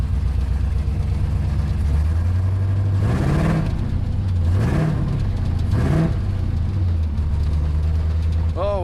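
An LSX-swapped Chevy S10 engine revs loudly for a burnout under hand throttle, holding a steady drone with three sharp rising rev surges, while people talk and shout over it.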